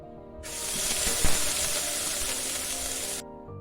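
Small omena fish dropped into hot oil, a sudden loud sizzling hiss that bursts in, holds steady for about three seconds, then cuts off, with a faint clatter as it starts.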